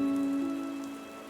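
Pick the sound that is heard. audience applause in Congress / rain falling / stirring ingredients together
rain falling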